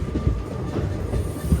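A train passing near Vikarabad Junction on the Pune–Mumbai route, a low, rumbling roll with soft rhythmic wheel clicks and a faint high squeal, heard from close by without talk.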